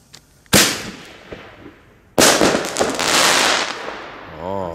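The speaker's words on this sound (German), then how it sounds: "Das nächste ist das Silver Chrysanthemum Bombenrohr." Fireworks on New Year's Eve, a Silver Chrysanthemum shell tube, with two loud sharp bursts a couple of seconds apart, the second followed by a sustained crackling roar that carries on to the end.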